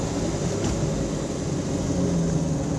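A 1976 Alfa Romeo GTAm track car runs at partial throttle, its engine a loud, steady, continuous drone with an even rumble and no speech over it.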